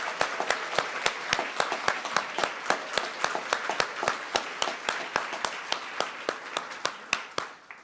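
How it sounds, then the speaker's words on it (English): An audience at a health-system recognition celebration applauds award recipients. Crisp, evenly spaced claps land in a steady beat of about three per second, fairly soft and distinct rather than a dense roar, and fade near the end. "let's give them all another big round of applause"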